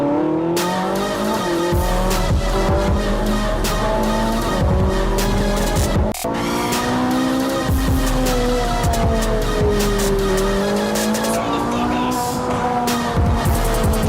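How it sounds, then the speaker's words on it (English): Ferrari 458 Italia Spider engine screaming at high revs with tire squeal, loud and continuous, the pitch climbing and dropping through gear changes with a brief dip midway. "And if you wonder how this car sounds, I can tell you that this is the only car that can sound like this."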